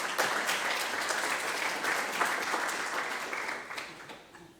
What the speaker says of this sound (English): Can we give him a round of applause as he comes to the stage?